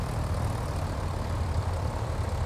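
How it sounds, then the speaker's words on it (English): The right engine of a Piper PA-44 runs in Microsoft Flight Simulator 2020 just after start-up, a steady low droning rumble at an even level with no talk over it. "Right engine is on."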